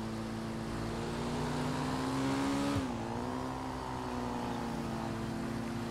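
A motorcycle engine droning steadily while riding, its pitch dipping briefly as the throttle shifts and then climbing again, close and continuous with no talk.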